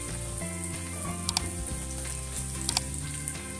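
A spicy garlic karam mixture fries in oil, with a steady, loud sizzle throughout and occasional scraping from stirring.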